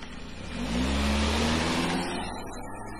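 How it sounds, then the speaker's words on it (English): A radio drama sound effect of a car driving off: an engine swells as it pulls away, peaks, then trails off into steady rumbling, with no voices over it. "As the car drives off"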